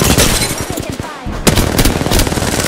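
Loud, rapid gunfire in Apex Legends: dense bursts of shots crackle almost continuously, briefly dropping out before resuming in a fierce volley, with a voice faintly mixed in.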